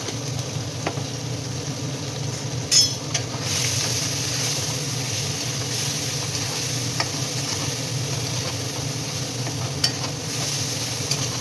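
Ginger fries in a pan with a steady, even sizzle while a utensil stirs it, giving occasional soft scrapes and clicks against the pan.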